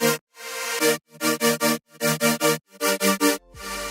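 A hover synth patch from an Ableton Live 10 future bass production plays a rhythmic run of short chords in groups of three and four, separated by brief gaps, bright and full, with no talking.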